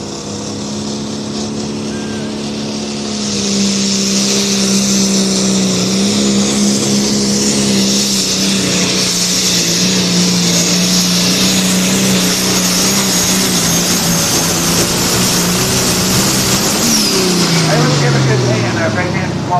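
A pulling tractor roars down a Saturday night pull track at a fire department event, its engine a loud, sustained drone that climbs and holds, then drops in pitch near the end, with an announcer talking over it.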